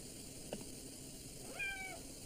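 A single drawn-out meow from a house cat in a quiet room with a new piano, in a 1994 TV movie scene. It is fairly faint, with a brief soft knock just before it.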